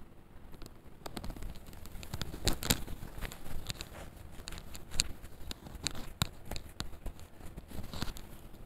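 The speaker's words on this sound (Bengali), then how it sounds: "মশলাটাকে ভেজে নিচ্ছি।" Spice mix of asafoetida and chopped onion fries in a pan, giving a close, steady crackling sizzle punctuated by brief louder pops and scrapes.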